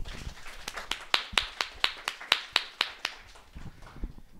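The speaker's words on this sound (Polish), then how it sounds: "brawa" Applause from a small audience at a book reading, heard as a sparse run of about a dozen sharp, evenly spaced claps that fade out after a few seconds.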